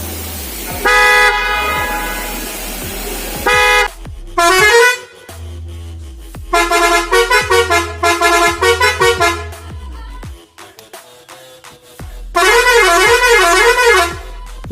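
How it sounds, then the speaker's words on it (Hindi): Loud car horns honking in repeated blasts, including toots and long sustained horn tones with some musical, warbling patterns, separated by short gaps, very close and forceful with no talk. "Number 2, loud horns."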